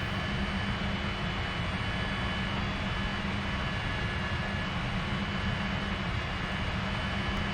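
Steady, unbroken roar of an Embraer E-195 jet in a flight simulator game, a dense broadband engine drone holding constant throughout with no talking.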